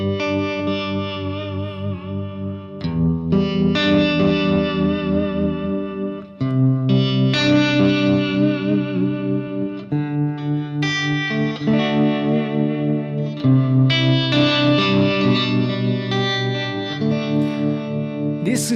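Electric guitar through a Fractal boutique amp preset set just short of clean, near breakup: sustained chords and melodic lines with chorus-like shimmer and echo, played loud and alone for the full length.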